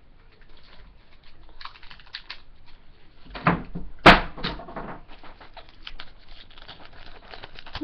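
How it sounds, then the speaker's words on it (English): A roll of tape dropping during crafting, heard as a sharp nearby clatter and a single loud impact, preceded by rustling and light handling noises. "My tape just fell."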